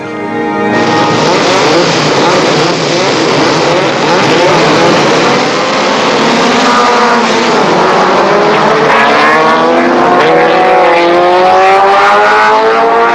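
Open-wheel Formula Renault racers at the 1970 Le Castellet circuit scream at high revs, a loud unbroken engine wail with rising and falling pitch as multiple cars accelerate and pass close by.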